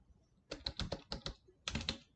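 Fingers type on a computer keyboard to enter data into an Excel spreadsheet. There are two short bursts of quick, close key clicks with a pause between them, and no speech.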